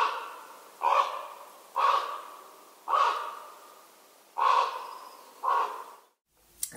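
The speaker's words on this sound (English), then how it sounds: "let me let you hear a real raven sound right there" Recorded raven calls: five loud, hoarse croaking caws spaced about a second apart, each clear and close, with no talk over them.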